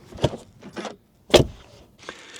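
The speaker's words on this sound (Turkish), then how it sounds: "Başka bir kapının camı açıkken de sesi bu." A car's power window moves on one of the other doors, heard close inside the cabin as a few short whirring bursts with brief pauses between them, ending in a sharper clunk.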